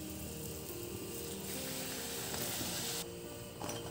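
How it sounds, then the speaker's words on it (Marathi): A puri fries in hot oil during preparation of a vegetarian thali, giving a close, continuous bright sizzling hiss with no talk. "अशा प्रकारे दुसरी ही पुरी आपण तळून घेऊ."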